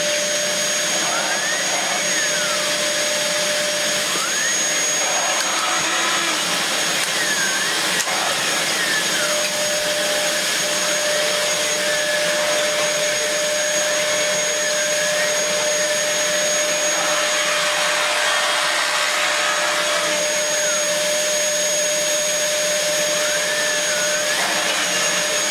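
A Dyson DC11 vacuum cleaner fitted with a turbo brush runs steadily and loudly close by, a continuous whine with a sustained high tone and no breaks for the whole stretch.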